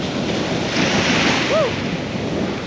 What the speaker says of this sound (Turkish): Baya rüzgar var ya.